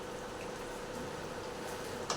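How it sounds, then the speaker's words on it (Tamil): A low, steady bubbling simmer from a pot of dried fish curry with drumsticks, faint and continuous, with a brief clink near the end. "கொஞ்சம் நல்லா கொதிக்கிட்டோம்."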